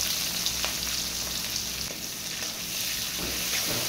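Chopped onion frying in oil seasoned with black cumin, a soft, even sizzle with faint crackles running throughout, close and moderately quiet, with no talking.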